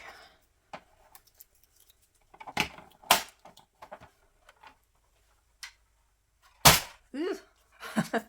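Craft tools for handmade cards dropped onto a big soft cushion, a handful of scattered soft clicks and taps with a couple of sharper knocks, fairly quiet with faint rustling between.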